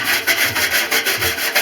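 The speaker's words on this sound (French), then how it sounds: "Avec une brosse, vous nettoyez ça." A brush scrubbing grime from a washing machine drain pump, heard up close as quick repeated back-and-forth rubbing strokes in a steady rhythm.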